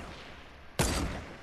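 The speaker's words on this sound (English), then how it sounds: "Oh, they're shooting." Gunfire in the Fortnite video game erupts as a sudden loud burst partway through, cutting in over a quieter background hum and ringing on to the end.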